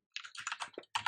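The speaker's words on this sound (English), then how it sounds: "we're just going to want to type in player is equal to" Fast typing of code on a computer keyboard, a close, crisp run of about a dozen key clicks in quick succession, then a short pause and a final burst of keystrokes.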